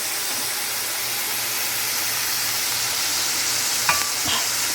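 Beans sizzling and frying in a pan, a steady hiss held at an even level, with a few soft stirring scrapes and knocks near the end.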